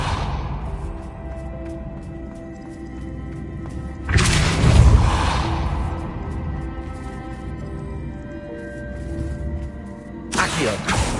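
Depulso spell cast in the Hogwarts Legacy video game, a forceful whooshing burst with a heavy thump that swells and fades over a couple of seconds, followed later by a shorter second blast, over quiet ambient game tones.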